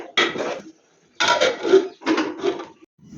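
Lid set onto a cooking pot, giving several bursts of close metallic clattering and scraping separated by short silences.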